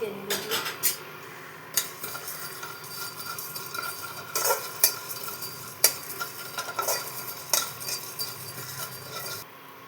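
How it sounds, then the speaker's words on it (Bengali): Whole spices, including coriander and cumin, are dry-roasted in a dry wok for a chingri chop, giving steady scraping and stirring with repeated metallic clinks of utensil against pan, fairly close, with no talk. "মশলাটা দিয়ে দেবো, শুকনো কড়াই ভেজে নেব।"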